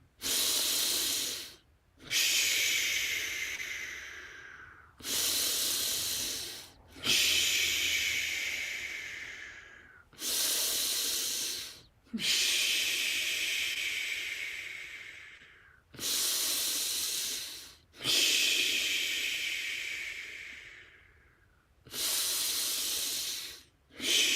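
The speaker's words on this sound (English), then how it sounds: "Circular breathing." A person practises slow circular breathing, drawing long, hissing breaths in and out in an even rhythm close to the microphone. The breaths are separated by short silent gaps, and no one speaks.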